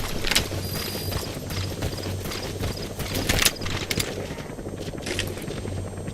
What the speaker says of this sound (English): Where the fucking donkeys go?